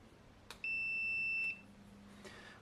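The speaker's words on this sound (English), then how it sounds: "Multimeter in an obnoxious beep mode." A multimeter set to continuity mode gives a single sustained, piercing beep of just under a second, checking for a short on a Dell Inspiron 14 laptop board that will not power on or charge, in a quiet room.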